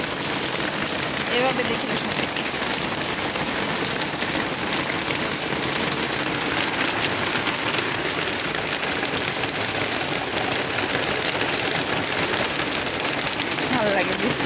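Heavy rain falling outdoors makes a continuous broadband hiss of drops on surfaces, steady and close, while people talk over it now and then.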